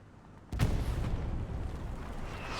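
A single loud rifle shot goes off in the video game Hell Let Loose, a sharp crack followed by a long, rumbling echo that slowly fades.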